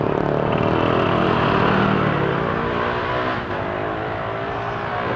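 Road traffic on the Marilaque highway: a close car engine revs and accelerates loudly, then vehicles rumble past in a steady roar with no talk.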